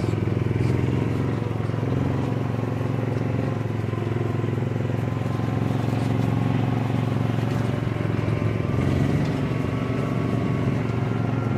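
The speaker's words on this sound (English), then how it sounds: "Doc's driving me around, putting a camera up at the Delta T" A farm vehicle drives through corn fields with a steady, droning engine rumble that holds at an even level from start to finish, close by, with faint voices now and then.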